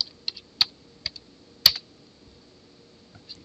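Computer keyboard typing a short folder name, a handful of crisp key clicks in uneven bursts with a louder press near the middle and quiet gaps between, close and alone.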